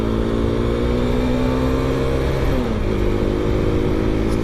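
A Mondial HPS 125 motorcycle's 125cc engine revs loudly and close, a steady sporty drone whose pitch rises and then dips and shifts, with no voices over it.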